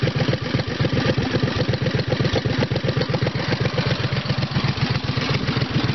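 A tractor engine idles close by, a loud steady low chugging with even rapid pulses and a slight mechanical clatter, running without pause.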